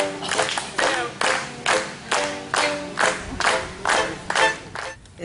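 An audience claps along in unison, a steady rhythmic beat of about ten loud, evenly spaced claps with a faint murmur of crowd voices underneath.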